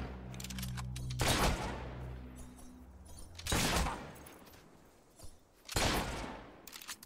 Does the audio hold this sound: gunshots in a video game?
yes